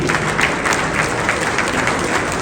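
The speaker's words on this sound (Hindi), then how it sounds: "इसके लिए विमोचन के लिए सभी का तालियों से स्वागत।" An audience at a formal event in Delhi bursts into applause, a loud, dense and steady patter of many hands clapping throughout, with no speech over it.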